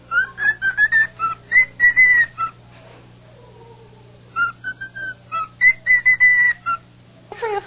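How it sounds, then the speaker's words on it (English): A parrot whistles tuneful song phrases, a quick series of bright, clear notes in two bursts separated by a short pause, loud and close with no talking. "Three or four different whistles of songs, and then he can also wolf whistle"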